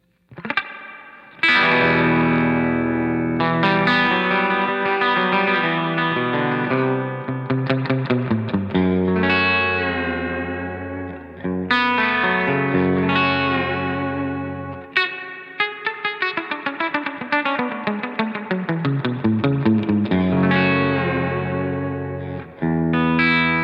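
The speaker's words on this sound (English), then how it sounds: "Let's hear how deep the reverb gets." An electric guitar plays sustained chords and lines through a Shinos L Rocket 30-watt 6L6 combo amp with deep reverb, loud and continuous, notes washing and trailing into one another with no talk.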